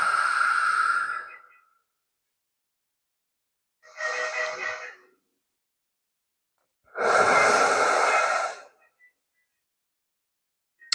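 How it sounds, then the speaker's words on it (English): A slow, audible exhale during a guided breathing exercise in a yoga class, three separate breaths in all: a long airy out-breath, a shorter quieter one and then a fuller, louder one, each heard alone against silence. "Breathe it out."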